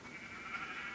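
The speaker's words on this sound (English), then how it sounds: "Feed the sheep first." A sheep bleating in Minecraft, a single short wavering bleat heard faintly and alone over a soft background.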